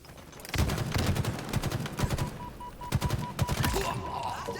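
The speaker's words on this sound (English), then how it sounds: "Hit somebody with this Hydra." The Hydra weapon in Halo Infinite fires rapid bursts of sharp shots, a dense run of loud, close bangs in quick succession with other gunfire mixed in.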